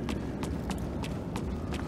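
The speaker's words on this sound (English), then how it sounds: "This is the sound of my boots on the wood." Footsteps from boots on wooden flooring in Star Wars Jedi: Fallen Order, about six evenly spaced hollow thuds in a brisk walking rhythm over a low, steady game background.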